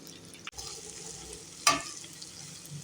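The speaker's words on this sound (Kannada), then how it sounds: "ಒಂದು 2-3 ನಿಮಿಷ ಎಣ್ಣೆಯಲ್ಲಿ ಹುರ್ಕೋತಾ ಇದ್ದೀನಿ." Finely chopped okra frying in oil in a pan, with a steady close sizzle broken by one short stir and a sharp scrape of the spatula near the end.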